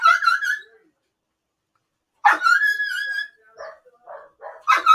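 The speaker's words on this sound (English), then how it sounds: "the kids just came home, which is why all the dogs are now erupting into badness." Several household dogs erupt into loud, close barking and excited yipping as children arrive home, with bursts of barks separated by short gaps and a few quieter whines.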